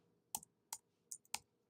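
Keystrokes on a computer keyboard while entering text into a spreadsheet: four crisp, quiet clicks spaced unevenly over under two seconds, with no voices.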